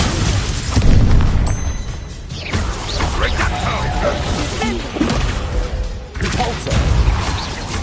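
Bombarda explosion spell in a Hogwarts Legacy duel, loud repeated booms and impact bursts mixed with whooshing spell effects and clattering mechanisms, with a few short dips between blasts.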